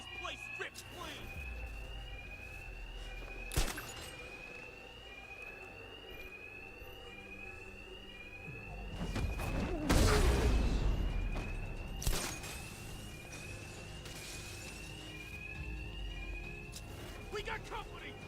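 Alarms blare inside Batman: Arkham Knight, a rapid run of repeating rising electronic chirps that sounds steadily through the whole stretch while game voices talk and a loud crash hits near the middle.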